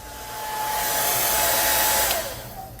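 A hair dryer blows on hair with a steady, loud, breathy whir that swells slightly and then eases off near the end, with no voices.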